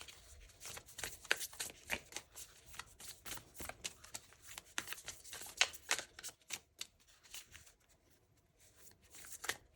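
Tarot cards being shuffled by hand, a steady run of crisp riffling and flicking bursts up close with no talking, the rhythm uneven as the deck is split and bridged.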